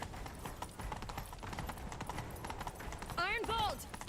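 Rhythmic hoofbeats of a galloping horse in The Witcher 3 run steadily under game music and talk, with a brief horse whinny near the end.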